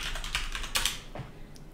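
Quick keystrokes on a computer keyboard, a short burst of close, crisp taps entering a word into animation software, with no voices.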